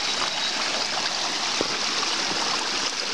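A picturesque forest stream flows steadily, giving a continuous, even rush and trickle of water close by, with no voices.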